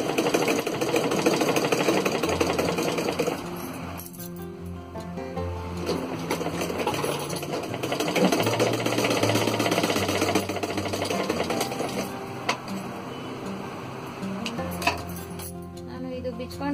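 A sewing machine stitching a blouse runs in bursts of fast mechanical rattling, stopping and restarting several times, fairly close with some clinking in between.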